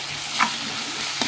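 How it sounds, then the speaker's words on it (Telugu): Ginger stir-fries in a pan for a tomato meal maker curry, a steady close sizzle with two brief scraping stirs of the spoon, no voices. "ఇదంతా మంచిగా పచ్చి వాసన పోయే వరకు గోలియాలి"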